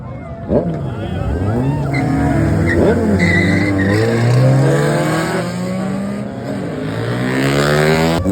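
A diesel car and a Honda Civic drag race at a night car meet, engines revving hard with rising, shifting whine and tire screech, loud and continuous from start to finish.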